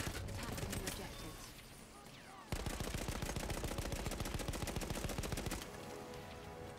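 Sustained machine-gun fire in Battlefield 1, with rapid, steady rounds hammering almost continuously and a loud, tightly spaced burst in the middle, plus someone talking over the shooting.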